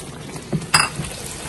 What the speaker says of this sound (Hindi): इसके अंदर हम मिलाकर पानी डाल दे रहे